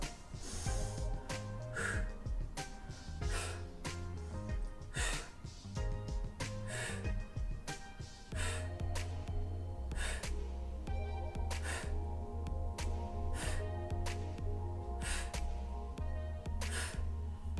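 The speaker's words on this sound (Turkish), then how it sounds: "Derin bir nefes al" During a facial slimming exercise routine, a person takes repeated deep breaths in and blows them out, giving soft rhythmic airy bursts under steady background music.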